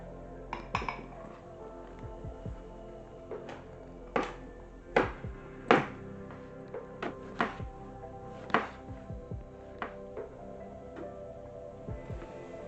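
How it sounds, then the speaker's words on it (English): Knife chopping strawberries and raspberries on a cutting board, with sharp, irregular knocks and clinks spaced a second or so apart, close and fairly loud, with no talking. "I am going to chop some strawberries, some raspberries, and juice a lemon"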